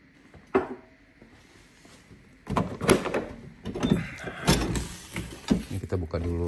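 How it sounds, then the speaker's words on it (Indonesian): A home's back door is opened, with a rattling, sliding clatter of the door and a series of bangs and knocks, close and fairly loud, while a person talks. "Kita buka dulu pintu belakang supaya sirkulasi udara."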